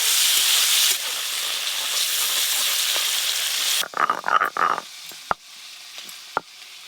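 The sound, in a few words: prawns frying in oil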